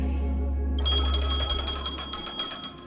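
A creepy phone rings in the Honkai: Star Rail game, a bright repeating electronic ring with high bell-like tones that starts after a moment of low ambience and keeps pulsing over a steady background hum.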